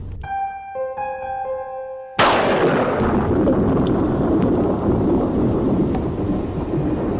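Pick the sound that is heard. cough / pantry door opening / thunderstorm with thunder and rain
thunderstorm with thunder and rain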